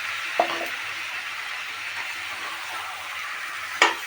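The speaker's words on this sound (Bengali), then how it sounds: "এবার আমি এইটাকে ভালো করে কষে নেব।" Jackfruit sautéing with a mixed spice paste in a pan, a steady soft sizzle and hiss throughout, broken by two brief sharp scrapes or clinks of the spoon.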